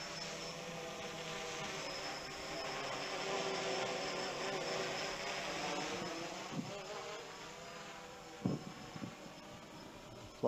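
A WLToys V303 Seeker quadcopter hovers and flies outdoors over a field, giving a steady, insect-like rotor whine and hum that holds for the whole stretch, with a few soft knocks near the end.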